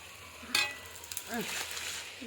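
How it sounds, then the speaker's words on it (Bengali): Pieces of poultry meat frying and being stirred in a pan for a Bengali meat and potato curry; a soft sizzle runs throughout, with a few scraping stirs, fairly faint and close. "মাংসটা ভালোভাবে কষে নিচ্ছি, নাহলে একটু গন্ধ থাকবে।"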